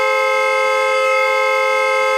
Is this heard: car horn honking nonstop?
yes